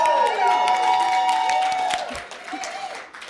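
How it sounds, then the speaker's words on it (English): An audience at an academic honors reception applauds loudly, with dense steady clapping and some cheering that thins out toward the end. "You can applaud all you want."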